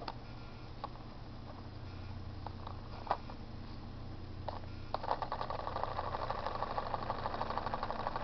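A homemade electric motor built on a raisin box runs with a faint, uneven buzzing whir and scattered clicks from the contact point, growing steadier and a bit louder toward the end.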